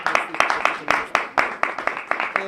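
An audience at a hosted event for Miss South Africa Shudufhadzo Musida clapping in a steady, loud burst of applause, with no voice over it.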